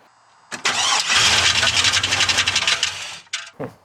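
An engine that runs badly cranks with a rough, rumbling starter drone for about two seconds, then cuts off, followed by a couple of short mechanical clunks.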